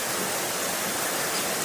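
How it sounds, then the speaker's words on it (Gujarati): Steady, dense hiss of rain falling, even and continuous with no voices, fairly soft throughout. "વરસાદ બહુ સારો આવે છે"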